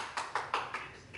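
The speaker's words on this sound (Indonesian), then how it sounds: "Aplaus dulu buat Pak Cakim." A handful of spaced hand claps at a talk about acute kidney failure, about five sharp, close, moderately loud claps in quick succession tapering off, with no voices.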